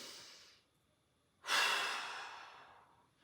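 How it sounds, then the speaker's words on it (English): One deep breath: a soft hiss drawn in through the nose trails off, and after a short pause a strong, airy exhale out through the mouth fades slowly. The room is quiet, with no talking. "In through the nose, out through the mouth."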